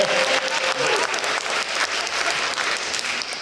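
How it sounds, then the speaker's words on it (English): A reception audience claps in a lively, uneven patter, with a brief whistle or cheer rising early, the applause holding strong before easing slightly at the end. "You can clap."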